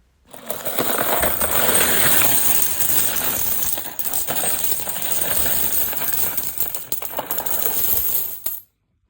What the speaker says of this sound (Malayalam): ഇന്നൊരു നാണയ പെരുമഴ വീഡിയോ ആണ്